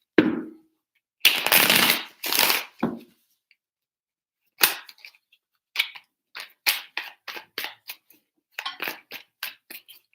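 A tarot deck shuffled three times in loud riffling bursts, followed by a series of short, crisp card snaps and slaps laid down one after another.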